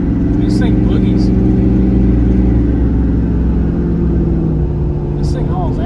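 Lifted 2017 Ford F-250 Platinum pickup accelerating, a loud, close engine drone with steady low harmonics that climb gently over the stretch, heard from inside the cab.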